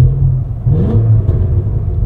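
A 2024 Cadillac CT5-V Blackwing engine in V mode with engine sound at maximum, a deep steady rumble from inside the cabin that swells slightly as it revs, alone with no talk.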